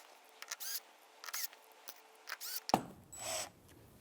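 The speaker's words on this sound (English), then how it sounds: "Now we're going to align the bracket onto those 4 holes and reinsert these 4 screws." Screws are driven back into the existing holes of a bracket on a Rialto reformer with tower, giving a few short clicks and ratcheting bursts with pauses between them, close by and fairly quiet.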